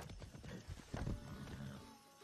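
Horse hooves clip-clop in the Far Cry 6 video game, a busy run of close, moderately loud hoof strikes over a low rumble, with no talking during the brief stretch.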